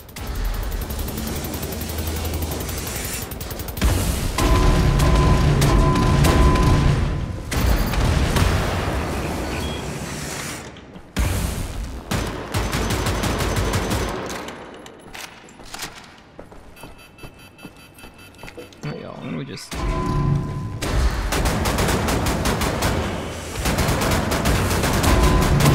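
Heavy gunfire in Wolfenstein: The New Order, with dense bursts of shots and booming impacts in loud clustered volleys, separated by brief quieter gaps, across most of the stretch.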